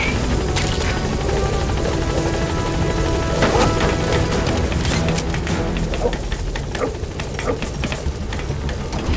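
A helicopter flies in Metal Gear Solid V: The Phantom Pain, a loud, steady rotor roar with gusty turbulence and scattered clatter throughout.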